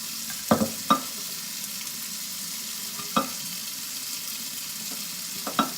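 Carne en salsa verde simmers in a pan with a soft, steady sizzle, broken by a few faint clicks and taps of a utensil.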